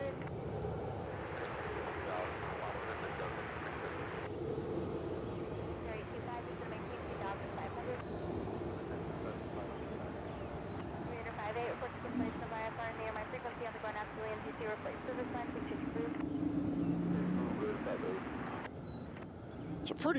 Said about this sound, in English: It's a nice little plane right here.